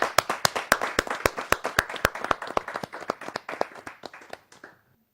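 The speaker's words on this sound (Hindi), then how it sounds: "मैं जोरदार तालियों के साथ मैं अभिनंदन करता हूं" An audience at a Hindi poetry recital claps loudly in a brisk, dense burst of sharp handclaps that thins out and fades to silence after about four and a half seconds.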